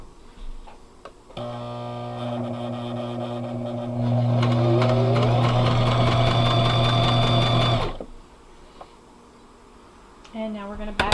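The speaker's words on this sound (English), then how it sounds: "And now we're going to back stitch." A sewing machine back stitches a pocket on a scrappy fabric bag, running steadily for several seconds, then picking up speed before it stops abruptly, with a brief mechanical sound after it.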